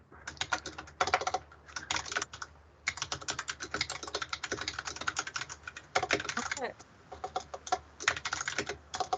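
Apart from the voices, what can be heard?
typing on a computer keyboard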